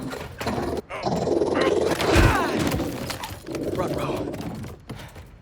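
A robot dog growls and snarls in Spider-Man 2, loud, rough and continuous, with a harsh roaring burst in the middle and brief gaps between growls.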